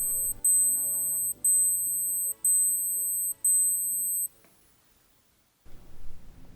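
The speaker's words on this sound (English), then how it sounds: "hold the upper pusher and you'll hear a very pleasant chime" A high, bright electronic alarm chime from a Seiko wristwatch pulses in five evenly spaced bursts, each lasting under a second, then stops and leaves near silence before a soft rustle.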